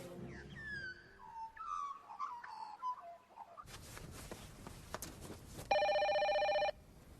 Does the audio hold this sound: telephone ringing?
yes